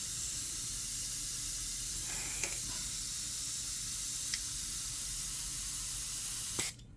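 An airbrush fitted with a Dru Blair soft spring and short trigger sprays paint onto a sign, a steady close hiss that holds unbroken for about six seconds before cutting off abruptly.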